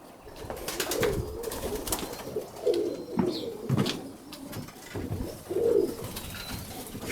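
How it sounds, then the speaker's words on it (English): Roller pigeons in a breeding cage with young birds give soft, repeated throaty coos in overlapping bursts, close by, over a low background rustle. "We got 2 birds in there with some youngsters, beautiful little youngsters."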